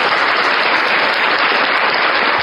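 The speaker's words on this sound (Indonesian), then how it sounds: "Siapa yang tepuk tangan?" Hand clapping picked up too loudly over a call, a dense, steady wash of clatter that fills the whole moment, loud and close with no gaps.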